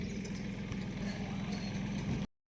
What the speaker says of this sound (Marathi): आणि ट्रॅक्टर आला आता फवारायला